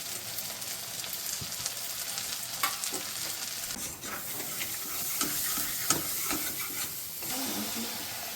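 Tomato and ground spices fry in oil for a Bengali prawn malai curry, a bright continuous sizzle broken by scraping stirs and occasional clatters of a spoon against the pan.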